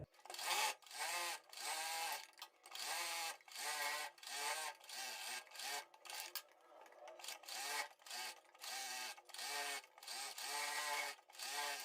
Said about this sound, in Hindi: अपनी लाइनिंग के किनारी पर सिलाई लगाते हुए अपने ब्लाउज वाले कपड़े को सिलाई से अटैच करना है